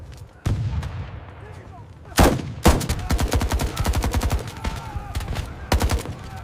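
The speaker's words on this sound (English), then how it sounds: "Unexpected heavy fire from the second line" Heavy battlefield gunfire in a North Africa front war video game, with deep artillery booms and rapid machine-gun bursts rattling in dense repeated volleys, loud and close, with a brief voice underneath.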